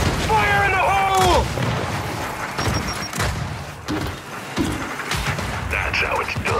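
Grenade blast and gunfire in a Gears shooter game, loud booming bursts and sharp shots in quick succession, with character voices shouting over the combat.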